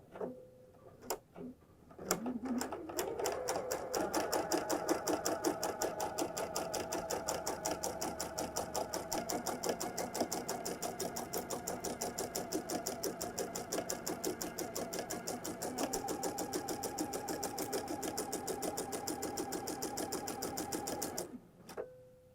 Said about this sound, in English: we are just stitching through the one seam allowance layer